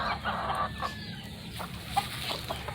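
Farm roosters, talisain and bulik birds, clucking and calling at a middling distance, a few short bursts over a low steady background hum, no talk.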